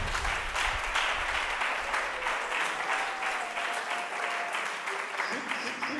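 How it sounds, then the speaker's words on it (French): An audience at a church conference in Lubumbashi claps steadily, a dense even roar of many hands sustained throughout, with a faint voice underneath. "Acclamez pour vous-même."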